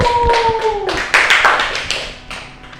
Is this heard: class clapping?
yes